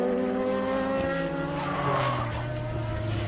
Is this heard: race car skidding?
yes